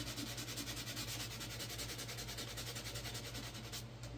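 An oiled wooden cutting board is hand-sanded with 220 grit sandpaper, a steady rhythmic back-and-forth rasp heard close up, unbroken and evenly paced throughout.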